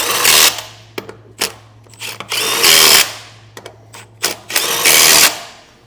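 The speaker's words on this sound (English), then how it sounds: "take our new lug nuts that come with the hub. We'll get these ran down here." Several short bursts from a power tool or impact driver running new lug nuts down onto an idler hub on a trailer axle, each whirring burst stopping sharply, with a steady low hum underneath.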